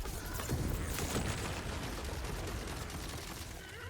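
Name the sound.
loot explosions in the video game Tiny Tina's Wonderlands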